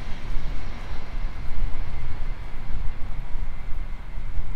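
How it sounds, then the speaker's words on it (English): An airliner flying in to land at Myrtle Beach, a steady broad engine roar that swells and fades unevenly, heard close and loud outdoors with no one talking. "Here comes the plane in for landing."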